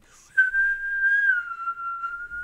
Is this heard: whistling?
yes